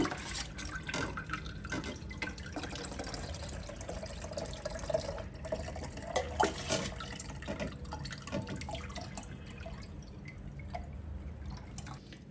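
Homemade lemonade poured through a strainer a second time to catch leftover seeds and pulp, giving a steady close trickle and drip of liquid throughout with no talking.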